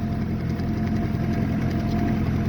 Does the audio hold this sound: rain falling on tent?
no